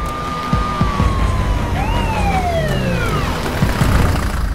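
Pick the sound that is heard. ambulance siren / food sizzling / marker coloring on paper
ambulance siren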